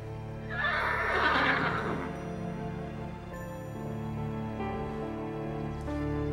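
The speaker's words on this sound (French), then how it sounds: "mon petit Comanche, tu es le plus beau de tous les chevaux de la planète" Comanche the horse lets out a loud, bright whinny near the start, followed by softer snorting and light hoof clip-clops, with no voices.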